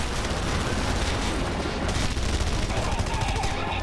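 Sustained turret gunfire and explosions in Red Faction Guerrilla, forming a dense, loud, continuous barrage with booming impacts and a voice speaking faintly underneath.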